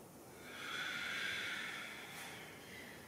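A single slow, breathy exhale during a yoga session swells and fades over a couple of seconds, soft and close with no talking.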